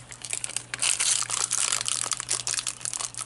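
Crinkly plastic packaging is handled and torn open while unpacking clear nail stamps, close crackling rustles coming in irregular bursts over a faint steady hum.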